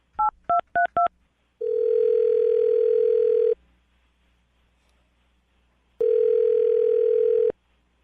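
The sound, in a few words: telephone dialing tone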